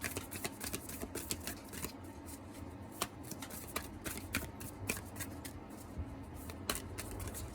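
Oracle cards being shuffled by hand, a rapid run of crisp papery riffles and flicks, close and fairly quiet, with no voices.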